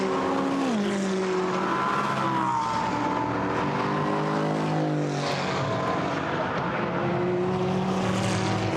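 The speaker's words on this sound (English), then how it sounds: "Freiburg House drifts the car nicely through Surtees onto the Grand Prix loop" GT4 race car at full throttle through the Brands Hatch circuit during qualifying, engine note rising and falling through gear changes and corners, loud and continuous, close to the microphone.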